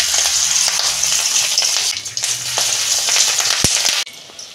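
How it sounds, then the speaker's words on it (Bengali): Fish roe fritters fry in hot oil in a pan, giving a steady close sizzle with occasional clinks from stirring, and the sound drops abruptly near the end. "তেল গরম হয়ে গেছে, আমি বড়াগুলো ভেজে নিচ্ছি।"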